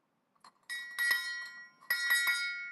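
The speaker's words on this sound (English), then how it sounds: "Just know that the bell does work." A bright ship's bell clock rings in two clusters of quick strikes, clear metallic tones ringing out after each group, loud and close with no talk.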